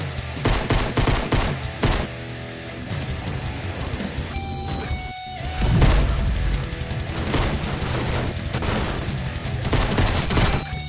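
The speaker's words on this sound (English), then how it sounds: "We're gonna have to shoot our way out" Rapid bursts of automatic gunfire in Fortnite, loud and close, with a heavy boom midway and more volleys after it.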